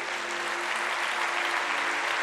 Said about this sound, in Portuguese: Dê uma salva de palmas bem forte a Ele.